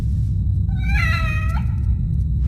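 A cat in The Evil Within gives a drawn-out, rising-then-falling meow, close and clear over a steady low rumble of game ambience.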